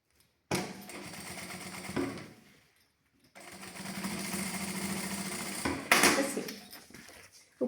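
Sewing machine stitching a strap, two bursts of fast mechanical whirring separated by a short pause, close and fairly loud, with a sharp clack near the end and no voices.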